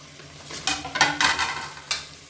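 Tomatoes stirred into a sizzling onion masala in a pan, giving a close, steady frying hiss with several scraping stirs of a spoon against the pan.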